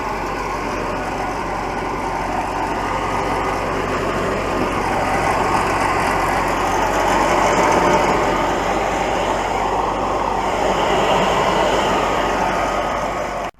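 An MTZ-80 tractor pulling a UPS-4 row planter across a field, its diesel engine a steady loud droning rumble that swells slightly and then holds as it drives away.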